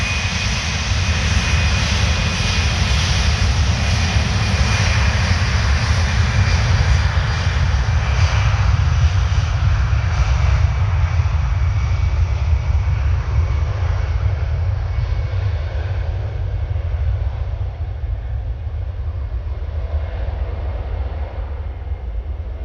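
Air France Airbus A320 jet at Paris Orly airport rolling for takeoff at full power, a loud, continuous engine roar that holds steady for over twenty seconds with a slight thinning of its hiss toward the end.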